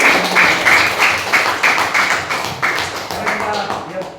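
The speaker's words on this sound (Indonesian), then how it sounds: "Tepuk tangan dulu" A classroom group clapping in unison, a loud rhythmic series of about a dozen evenly spaced claps, close by, with a voice speaking over part of it.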